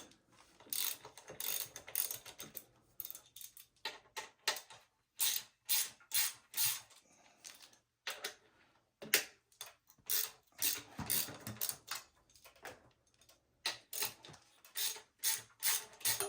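Ratchet clicking in repeated bursts while loosening the axle bolt of a 12-inch supermoto wheel set, close and fairly loud, with short pauses between rapid strokes and no talking.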